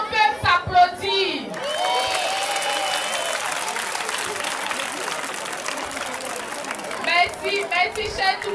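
Children at a school prize-giving and donation ceremony applaud themselves, a loud burst of crowd clapping with some cheers between stretches of an adult speaking over a PA system, the voice returning as the clapping fades.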